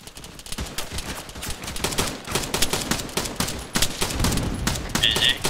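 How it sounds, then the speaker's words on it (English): Rapid gunfire rattles in dense bursts as a player shoots into a first-story window of a building in the military shooter ArmA, with close, loud shots layered over a steady din of battle. "I'm shooting into the window of first story."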